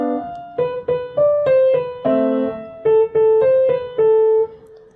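Piano plays a short, simple two-hand passage from Paganini's Caprice: a melody of separate notes over low notes, ending with a fading final note.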